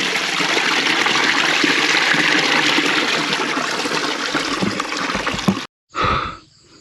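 Water gushes loudly and steadily into an empty tank for several seconds, then cuts off abruptly, followed by a short splashing gurgle.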